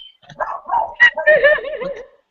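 A pet dog named Bisky gives a short run of close yips and whimpering barks, alone for a couple of seconds with no talk over it.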